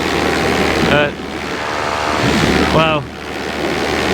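A paramotor engine drones steadily at over 6,000 RPM in flight with wind rushing past, loud and continuous throughout while someone briefly speaks over it.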